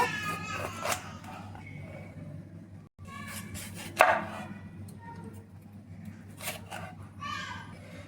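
Half a capsicum being finely diced on a board gives a sparse run of knife taps beneath a steady background hum, with faint children's voices in the distance.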